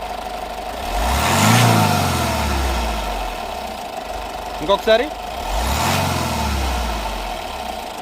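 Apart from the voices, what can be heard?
Honda Jazz diesel car engine revving with accelerator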